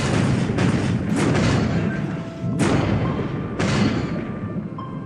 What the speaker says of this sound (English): So one torpedo hit.